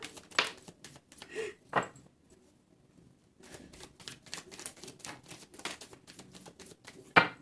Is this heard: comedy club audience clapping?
no